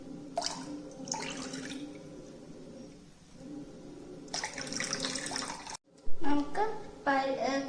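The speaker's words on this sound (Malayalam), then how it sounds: "ഇനി നമുക്കിത് വെള്ളം ഡ്രെയിൻ ചെയ്തെടുക്കാം." Soaked chana dal drained of its water in a kitchen, with splashing and pouring bursts of water running into a sink in short spells, plus a few brief gaps; a voice talks faintly in the background.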